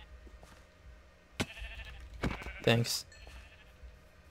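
A sheep in the Minecraft video game bleats in a short, loud burst near the middle, with a few fainter game sounds around it and someone speaking briefly.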